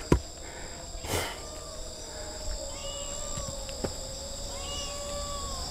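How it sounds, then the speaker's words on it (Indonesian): A kitten mews several times in thin, rising cries over a steady background of chirping crickets or insects, with a couple of sharp knocks at the start. "Kita mendapatkan anugerah berupa anak kucing"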